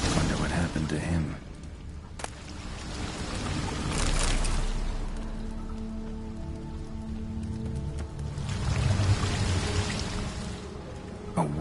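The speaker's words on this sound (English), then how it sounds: "A waterfall flowing upwards?" Rushing water from an upward-flowing waterfall in the video game The Witcher III: Blood and Wine, a continuous broadband roar that swells and ebbs in loudness throughout, with a brief sharp click partway through.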